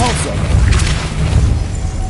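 A Depulso spell impact in the Hogwarts Legacy video game, a short, heavy boom with a crashing thud, fairly loud, followed by a low rumbling tail.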